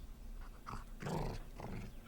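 A dog growls close by in a tense standoff, giving a few low, rumbling bursts that rise and fall over about two seconds without any speech.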